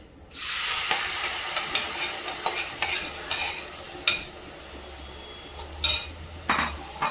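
A spoon stirs raw mango chutney in a pan, scraping and clinking against the metal in a steady, uneven rhythm of close, sharp taps over a soft hiss of cooking.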